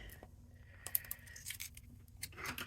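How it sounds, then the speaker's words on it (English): Scissors handled at a card-making table give a few faint, close clicks and light metallic snips over quiet room tone. "Let me just grab some scissors to help."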